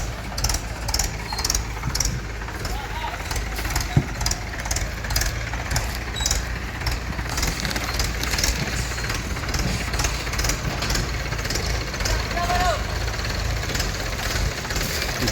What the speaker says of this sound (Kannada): ಇಲ್ಲೂ ಮಹೇಂದ್ರ ಇದೆ ಅಡಿಕೆ ತೋಟದಲ್ಲಿ ಚಿಕ್ಕ ಗಾಡಿ ಹೋದಂಗೆ ಹೋಗ್ತಾ ಇದೆ